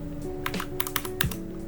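Keys clack on a computer keyboard in short irregular bursts, a few quick taps close by over a steady low electrical hum.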